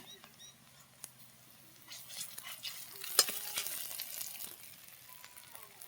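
Ginger-garlic paste hits a pan for a khesari dal and tomato dish. A faint sizzle comes through, with a few clinks and scrapes of stirring, quiet and close. Soft background sounds fall in the gaps.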